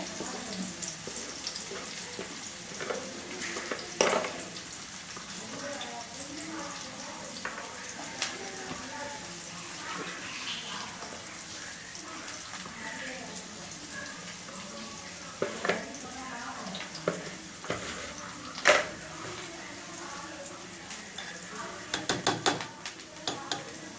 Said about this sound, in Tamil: நல்லா வெங்காயம் பொன்னிறமாக வதங்கணும்